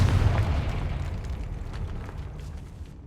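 A Confringo fire spell detonates in the Hogwarts Legacy video game, a loud, rumbling blast with heavy low boom that rolls on and slowly decays over about three seconds, no talk over it.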